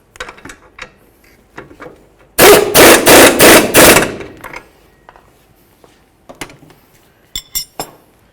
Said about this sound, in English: Okay, let's tighten up our bolts.